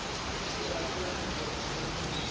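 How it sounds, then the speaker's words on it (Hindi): Heavy monsoon rain pours continuously for hours, a loud, dense, unbroken hiss of rainfall filling the whole moment with no distinct drops. "बहुत तेज बारिश हो रही है"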